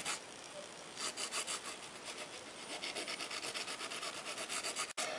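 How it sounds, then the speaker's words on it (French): A nail file rasps back and forth across gel on a fingernail, filing down the demarcation in quick, steady close-up strokes that run continuously until a brief pause near the end. "On la met bien droite sur l'ongle et on lime la démarcation."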